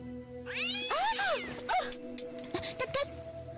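A cat meows several times in drawn-out, rising and falling cries, loud and close, with a steady hum and some clatter in the background.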